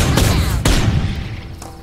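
A frag grenade explodes in Worms Revolution with a loud, sharp blast, then a second burst follows quickly and fades into rumbling debris.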